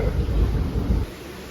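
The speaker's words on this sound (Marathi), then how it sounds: "जाम पाऊस आहे भाई जाम." Dense, steady roar of heavy monsoon rain close by for about a second, then dropping abruptly to a softer wash.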